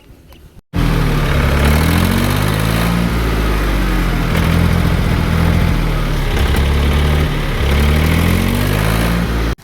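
A diesel tractor engine with air in the fuel line after refuelling bursts into life and runs loud and steady, a close rumbling idle from start to finish before it cuts off.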